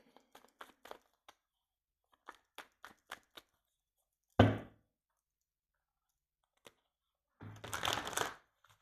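Tarot cards handled and shuffled up close: quiet clusters of light clicks and flicks, a sharp slap of the deck, then a longer riffling burst near the end, with near-silence between.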